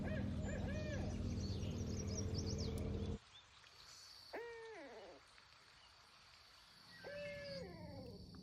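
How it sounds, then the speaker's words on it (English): Barred owl calling from the woods along a river on a kayak trip, a few faint, distant hooting phrases with rising and falling wavering notes, heard after a louder rumbling start gives way to quiet. "The barred owl is somewhere in there."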